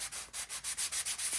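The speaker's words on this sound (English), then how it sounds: "if you take a sanding block and you just sand over it" A sanding block rubbed back and forth over decoupaged napkin paper on a junk journal page, about ten rhythmic gritty strokes in quick succession, close and fairly soft, with no talking.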